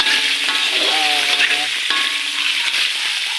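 Pork frying in a pan for a pork and beans dish, a loud, steady close sizzle with crackling spatters throughout, no talk.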